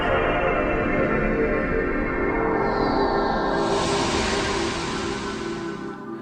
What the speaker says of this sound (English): Here is the sound of the PlayStation 2.